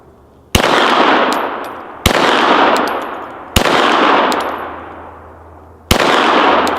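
Four loud, sharp shots from a Glock 17L pistol ring off a red steel plate target, each blast followed by a long decaying metallic clang, spaced irregularly about one to two seconds apart with no talking.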